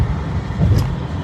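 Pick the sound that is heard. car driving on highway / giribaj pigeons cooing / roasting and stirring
car driving on highway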